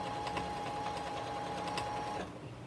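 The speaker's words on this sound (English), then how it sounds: "that's when this machine is really going to set itself apart from your regular sewing machine" A sewing machine stitching outdoor swing seat cushion fabric in a fast, even mechanical whir with a rapid needle rhythm, close and steady, then slowing and stopping near the end, with no talking over it.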